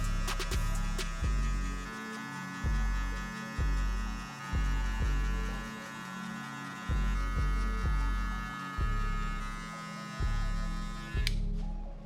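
Hair clippers fitted with a 1½ guard, lever fully open, buzz steadily while laying a guideline in a low fade, with a constant electric hum broken into short repeated strokes through the hair.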